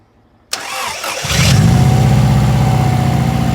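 Subaru WRX engine fitted in a Metro 6R4, with a gear-reduction starter whirring and cranking briefly before the engine catches and settles into a loud, steady, lumpy idle.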